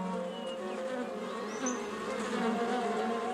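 Bees forage for nectar and pollen among flowers with a steady, soft buzzing hum that drones on without a break.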